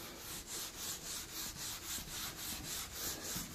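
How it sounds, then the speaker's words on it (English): Steady back-and-forth scrubbing on wood, a soft rhythmic abrasive rasp with even strokes, close up and alone. "Now this will dry the more I sand on it or scrub it with my steel wool."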